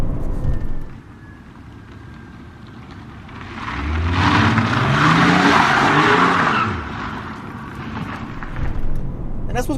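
Tuned BMW 335d diesel, rear-wheel drive at about 400 hp, drifting as its tires squeal loudly for several seconds over a roaring engine, with talk before and after.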